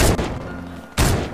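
Gunfire in the video game Fortnite: two loud, close bursts of shots, one at the start and one near the end, with a brief quieter gap between them.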